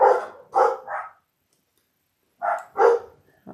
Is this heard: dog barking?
yes